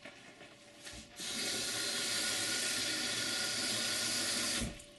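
Tap water gushes into a container used to soak natural fishing bait before freezing, a loud steady rush that starts abruptly after a second of quiet and stops sharply near the end, with no talking.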